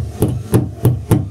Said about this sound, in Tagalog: Dandahan lang, wag masyadong pukpok kasi